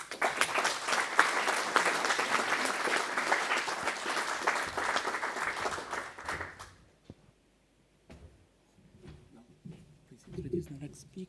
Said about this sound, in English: I think a big applause to them